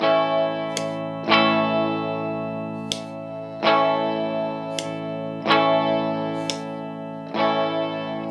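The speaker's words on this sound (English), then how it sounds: "it provides a coil-tapped sound without physically having to tap one of the coils of this humbucker" A Yamaha Revstar electric guitar with its humbucker's dry switch giving a coil-tapped sound, clean and slightly chorused, strikes a series of chords roughly every second, each ringing out before the next.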